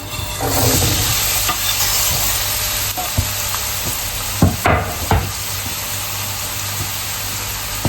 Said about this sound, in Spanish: yo en la olla he puesto aceite de oliva, lo ponemos a calentar y vamos a hacer sofreír lo que es la cebolla